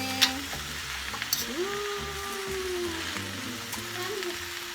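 Chow mein noodles fry in a home pan, a steady sizzling hiss running throughout with a few sharp pops, while a nearby voice speaks briefly over it.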